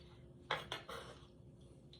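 A knife cuts through chopped tomatoes for a sub salad, making a few quick soft clicks and taps against a cutting board, faint and close, with no talking.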